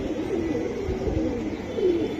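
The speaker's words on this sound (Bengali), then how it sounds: "নর মাদি দুইটাই তোতা কবুতর," Tota and Afsan pigeons, a male and a female in a loft, give low, continuous cooing that hums close by with a steady, throaty rhythm and no talk over it.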